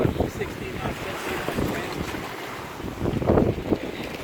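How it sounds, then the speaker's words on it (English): A sailboat on a shakeout sail off the coast of Ireland near Lambay Island, running in wind of about 16 knots, with steady rushing wind and water noise close to the microphone throughout. "Captain John, we are on our shakeout sail."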